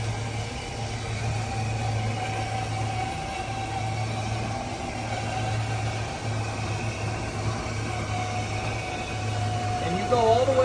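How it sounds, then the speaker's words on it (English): An RV slide-out motor hums steadily as it extends the living room slide, a constant low drone that holds for several seconds and shifts briefly near the end. "We're going to extend the living room slide"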